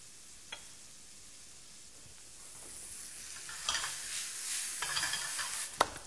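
Crushed garlic and a sprig of thyme cook slowly in olive oil with a soft, low sizzle, punctuated by a few faint clinks and a light scrape from stirring.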